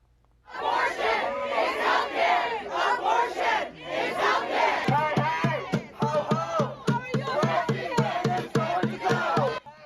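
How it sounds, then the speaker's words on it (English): Pro-choice and pro-life crowds demonstrate outside the U.S. Supreme Court building in Washington, D.C., loud massed voices chanting in rhythmic bursts, with rapid repeated shouted syllables building in the second half. "Pro-choice and pro-life crowds demonstrating and chanting outside of the U.S. Supreme Court building in Washington, D.C."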